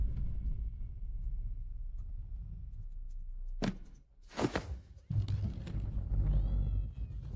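A cat meows in a few short, sharp cries partway through, set against a low rumbling background with a brief thump, and no speech.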